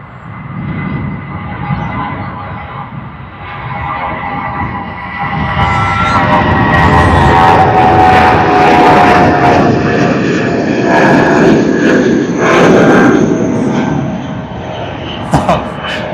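An airliner taking off at Sydney Airport, its jet engine roar swelling into a loud sustained rumble with whining tones, then holding steady as it climbs away, with voices heard faintly beneath.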